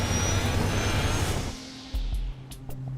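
A loud, roaring aircraft engine rushes steadily, then abruptly drops away into a lower, uneven rumble with a few sharp clicks and thumps.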